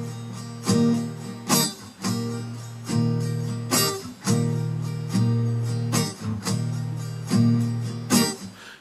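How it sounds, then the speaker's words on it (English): Acoustic guitar strumming pattern played at a steady pace, each cycle marked by a stressed, muted stroke that gives a percussive chuck between ringing chords, close and alone. "And now let's put stress on stroke number 7 and mute it as well. So it'll sound something like this."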